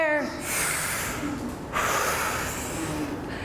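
A teacher's voice imitates a deep breath for a children's science lesson on animals: a single drawn-out, breathy inhale and exhale, close and fairly soft, with no other sounds.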